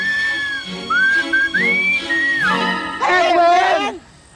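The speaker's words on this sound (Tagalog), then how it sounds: "Sumipol tayo." Someone whistles several short rising and falling phrases up close, then a more warbling, wavering run of whistled notes that stops abruptly, with voices alongside.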